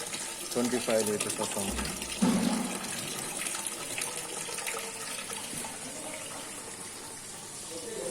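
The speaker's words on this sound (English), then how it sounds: "Now the water is coming here." Water pouring into the tank of an automatic seed sanitization unit, a steady gushing rush like a filling tap that continues throughout, while someone talks over it and a few clunks sound early on.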